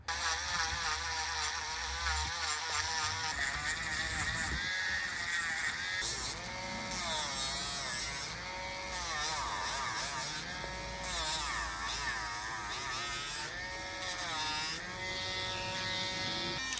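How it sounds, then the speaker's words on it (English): A handheld rotary grinder working outdoors to grind details off the plastic body of a toy figure, a loud continuous high whine that wavers in pitch as the tool bites and eases, steady for the whole stretch with no talking. "There's a bunch of details I want to grind off the body, so let's take a trip outside."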